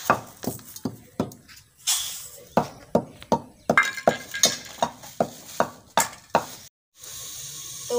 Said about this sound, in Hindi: तो अभी हमारे मसाले को तड़का भी लग चुका है।